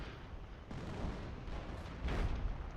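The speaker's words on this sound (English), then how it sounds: "so you can just have artillery galore over here." Artillery barrage in Company of Heroes with the EF mod's UK rework: a dense, continuous rumble of overlapping booms and distant blasts, swelling louder near the end, with no voices.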